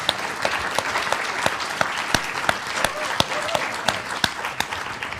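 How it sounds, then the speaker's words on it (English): Audience applause following a book talk about Black Power history, a steady wash of many hands clapping with sharp individual claps popping out, fairly close and sustained throughout. "A round of applause."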